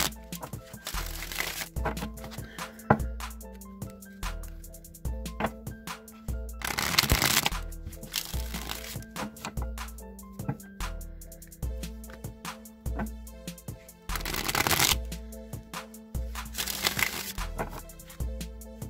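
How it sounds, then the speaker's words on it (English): A Rider-Waite tarot deck is shuffled repeatedly, crisp riffling bursts recurring every few seconds with softer handling and shuffling between them, close and fairly quiet. "I'm going to shuffle the Rider-Waite tarot deck a few times"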